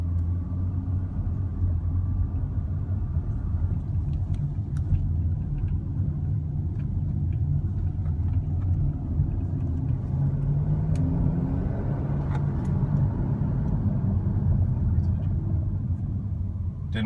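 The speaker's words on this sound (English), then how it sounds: "So I'll let the RPMs wind up a little bit" Interior of a 2013 Chevrolet Camaro 2SS with the engine winding up, a continuous deep rumble that builds steadily in pitch and loudness, heard from inside the cabin.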